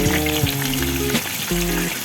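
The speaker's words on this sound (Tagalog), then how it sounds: "Magluto tayo ng tempura." Tempura frying in hot oil held at about 150 degrees, a loud, close, continuous sizzle and bubble with a steady tonal hum running beneath it.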